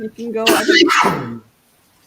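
A single loud sneeze bursts out in the middle of someone talking, followed by a brief trailing voice and then quiet.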